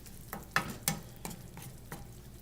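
Shrimp cooking in a pan, a quiet background sizzle broken by several sharp stirring scrapes and taps, close and without talk.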